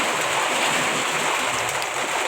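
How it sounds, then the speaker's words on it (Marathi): Heavy, sudden rain pouring outside a house, a dense continuous hiss of downpour at steady loudness with no voices. "इथं बाहेर भरपूर पाऊस पडत आहे एकदम जोरात अचानक पाऊस आला"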